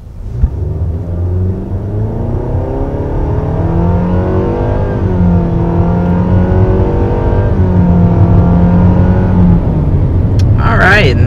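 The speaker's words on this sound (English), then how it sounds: "And there is up to 60 miles per hour in the 2022 Nissan Sentra." A 2022 Nissan Sentra compact sedan accelerates hard to 60 mph, its engine note climbing steadily in pitch with a continuous loud drone and rising whine from the start through nearly the whole run.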